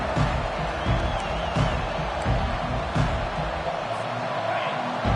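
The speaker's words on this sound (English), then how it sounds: "This crowd trying to make life miserable for this offense." Dense, roaring crowd noise in a football stadium during an Oregon versus Syracuse game, a loud continuous wash of voices and cheers with faint whistles, while a commentator talks over it.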